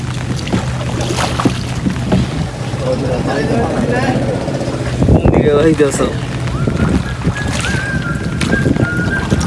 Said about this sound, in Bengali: আমি নৌকা চালাচ্ছি